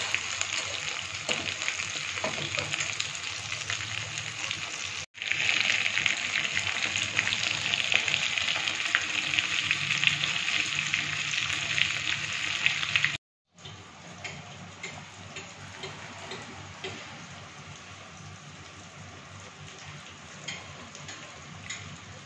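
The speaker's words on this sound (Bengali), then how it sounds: "এখানে ভাজা আমি কিন্তু শুরু করে দিয়েছি, কতটা খাস্তা হচ্ছে এই দেখো" Steady, crackling sizzle of food frying in hot oil fills the whole stretch, briefly cut off twice, close and fairly loud.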